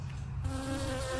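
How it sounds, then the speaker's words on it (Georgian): A bee buzzes close by, a steady droning hum that swells in after a brief quieter moment and holds to the end, with no talking. "ეს რა ხმა? ფუტკარი, ვაიმე."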